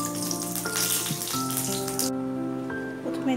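Cooking oil heats in a wok (kadai), giving a soft, continuous crackling sizzle close by, fairly quiet with a faint tonal hum underneath.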